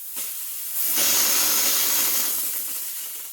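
A Rancilio Silvia espresso machine's steam wand hisses steadily and loudly, opening with a softer rush and swelling to a full broadband jet that holds, then eases slightly at the end, with no talking over it.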